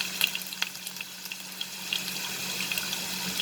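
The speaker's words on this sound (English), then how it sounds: "now I will add these potatoes into this mustard oil." Potatoes frying in hot mustard oil, with a steady close crackle and scattered sharp pops over a soft sizzle and a low hum.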